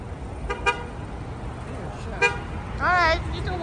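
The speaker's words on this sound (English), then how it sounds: "What you honking for?" Short car horn toots sound twice, then a longer wavering honk near the end, over steady street traffic noise and some background chatter.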